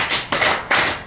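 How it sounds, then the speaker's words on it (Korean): Three sharp hand claps in quick, even succession, loud and close, each with a short roomy tail. "박수 세 번 시작."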